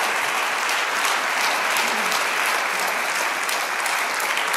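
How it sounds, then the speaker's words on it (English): Church audience applauding to welcome a pastor, a dense, steady wash of many hands clapping that holds at full strength throughout. "Come on, give him a hand clap."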